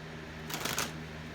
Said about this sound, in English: sorry for this awkward shuffling time